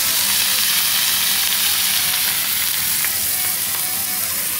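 Meat skewer and pork chop for a traditional Bulgarian mixed grill sizzle on a hot grill in a loud, steady, close hiss with faint crackles and no talking.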